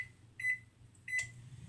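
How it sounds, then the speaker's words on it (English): Two short electronic beeps, about 0.7 seconds apart, sound from a microwave oven heating fathead pizza dough, clear but modest over a faint low hum, with no talking. "stick it back in the microwave for about another"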